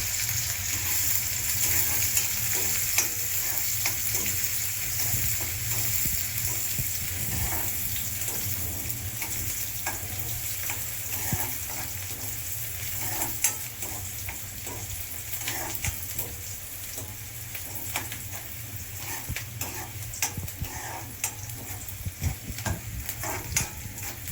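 Onions fry in a pan until brown, giving a constant, even sizzle with scattered crackles throughout, moderately loud and uninterrupted.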